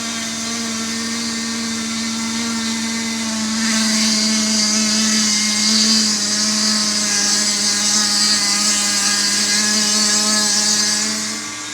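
A drill bores into a wooden part of a Top Flite P-40E Warhawk model airplane with a steady, high-pitched whine that gets louder and strains about a third of the way through, then eases off near the end.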